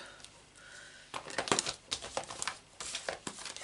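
Scissors cut through stamped cardstock pieces, giving a run of soft crisp snips and rustles after a quiet start, close by and fairly faint.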